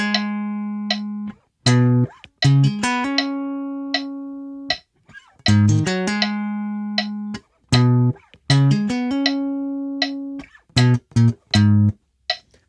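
A guitar plays a bass part, a low dominant-seventh groove of clean sustained notes and short plucked stabs in a steady rhythm, with a faint metronome click and no talking.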